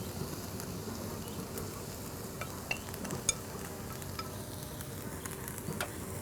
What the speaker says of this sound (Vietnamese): Đây tôi cho vào đây để tôi rang ruốc đây.